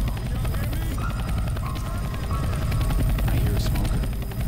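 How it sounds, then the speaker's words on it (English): A helicopter flies overhead in the zombie shooter Left 4 Dead 2 during the Dark Carnival campaign, a steady low rotor rumble running under game noise and a player's voice. "Look, a chopper!"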